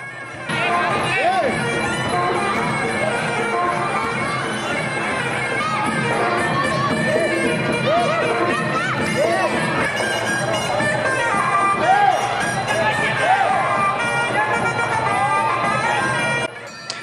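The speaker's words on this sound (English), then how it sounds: "In between rounds, people scream." A large crowd at a Muay Thai fight screams and shouts continuously between rounds, a loud dense chorus of many voices with whistles and yells rising throughout.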